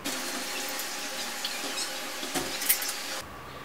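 Bottled water poured out in a steady, close splashing stream that runs for about three seconds before stopping, with no talking over it.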